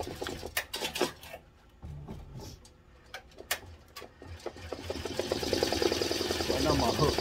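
A BAI embroidery machine stitches onto a baseball cap, starting with scattered ticks and clacks and then speeding up into a fast, even mechanical chatter that grows louder, close by.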